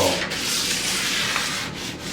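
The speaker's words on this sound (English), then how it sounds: "I'm going to sand all of these" A wooden picture frame is hand-sanded between coats, giving a steady, loud, close rasping rub that continues unbroken, with no voices.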